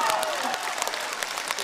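A Deyunshe crosstalk audience applauds, a brief burst of many clapping hands with a voice speaking over it.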